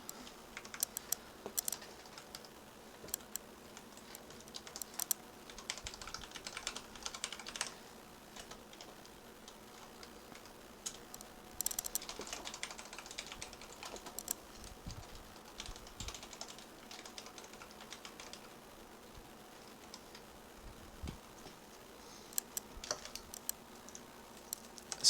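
Computer keyboard clattering as code is typed, with quiet uneven bursts of key taps and short pauses running throughout, close but soft.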